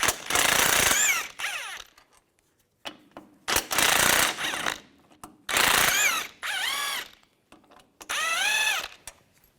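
A ratchet with a 15mm socket loosens the two shock absorber bolts on a 2015-2020 Cadillac Escalade, giving several separate loud bursts of close mechanical clicking and whirring with quiet gaps between them.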